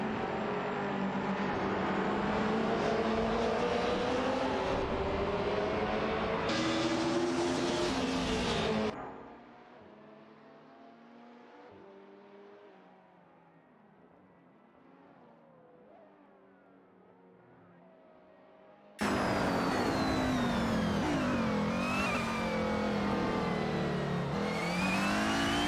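Race cars in a video game race, with loud, continuous engine whine and revving that drops to a muffled, quieter drone in the middle before the full roar returns.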